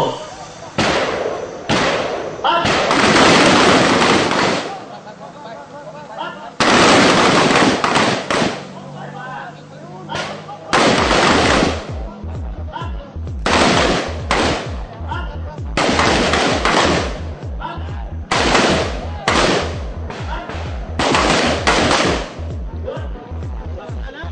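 Gunfire on a shooting training range, with loud close shots fired in quick pairs and short bursts, separated by brief pauses throughout.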